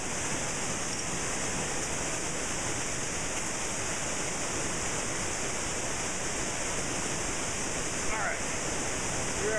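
Waterfall on a river in Puerto Rico, a steady, dense rush of falling water that stays even and fairly loud throughout, with no voices heard.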